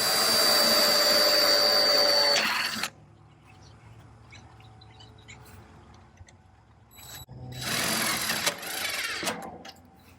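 Power drill driving screws into metal J-trim on a VersaTube barn kit, a loud whining burst for about three seconds, then quiet, then a second shorter drilling burst, all without speech.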